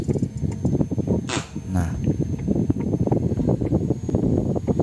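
A 12-volt DC water pump on a speed controller runs with a loud, steady churning and sloshing rumble close by, and someone says a brief word over it.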